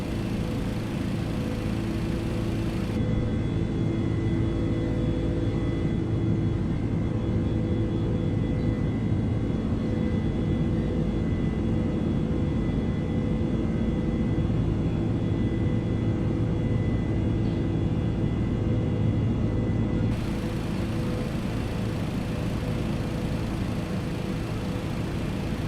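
The jet engines of a TDFI MD-11F freighter in MSFS2024 drone steadily through a heavy climb, a loud continuous broadband roar with faint tonal whine, unchanging for the whole stretch with no talking.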